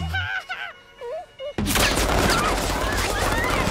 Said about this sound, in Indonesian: sebuah berondongan peluru dari anak buah Antonio nyaris membunuh mereka semua